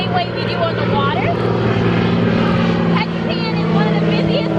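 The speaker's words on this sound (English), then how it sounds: "So these float planes are really impressive." Float plane engines and propellers drone steadily over a busy harbor strip of water in Ketchikan, a loud continuous buzzing hum under someone talking throughout.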